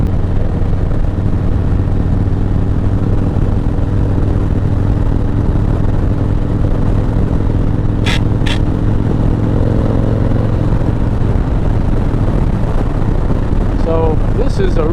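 A 2006 Harley-Davidson Fat Boy motorcycle being ridden, its low, loud engine drone steady throughout with heavy wind rush, and a few brief sharp clicks near the end.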